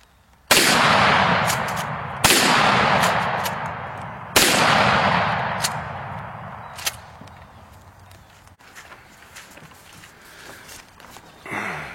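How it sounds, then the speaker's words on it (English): Shotgun fired outdoors, three sharp loud blasts about two seconds apart, each with a long decaying echo, followed by faint clicks and handling noise. "We're going to be shooting out in front like this."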